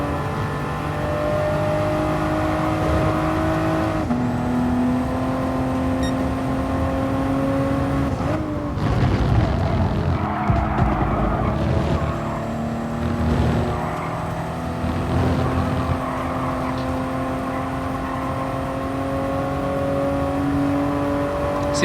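Race car engine in Gran Turismo Sport during an FIA Nations online race, droning steadily with pitch climbing through gears and shifting, a busier patch of engine noise midway, heard alone without talk.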